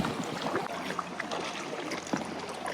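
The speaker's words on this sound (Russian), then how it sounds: "по 2 человека садят в канойку и едем" Canoe ride on the water near Phuket: soft, close splashing and lapping of water with faint paddle strokes, quiet and continuous, no talking.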